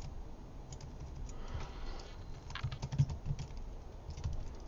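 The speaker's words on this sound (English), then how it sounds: "I can come and type in this" Fingers type on a computer keyboard in light, irregular clicks, quiet and close, over a faint background hiss.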